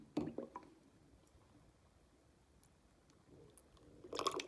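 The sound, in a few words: micellar water poured into glass with makeup sponge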